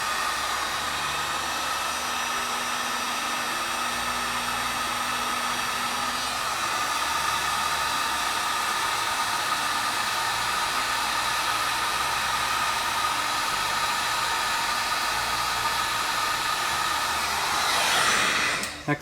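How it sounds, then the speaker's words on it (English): A hot heat gun blows a steady, loud rush of air, with an even broadband whoosh that holds nearly unchanged throughout and cuts off abruptly right at the end. "This heat gun's hot."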